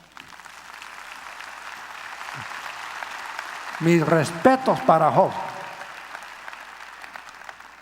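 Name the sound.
audience applause in a church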